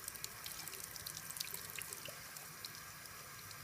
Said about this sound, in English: And I'll turn on the water.